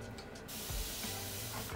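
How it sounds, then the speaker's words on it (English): A fine mist spray bottle spritzes water onto curly hair, one long close hissing burst that starts suddenly and runs to the end, with no talking. "I take my spray bottle, it's more like a mist bottle, and I just flip my hair"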